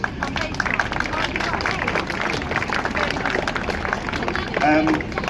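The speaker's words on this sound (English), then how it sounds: "Round of applause for them, please." A crowd at a bus depot open day applauds steadily, a dense wash of many hands clapping outdoors, with voices murmuring underneath.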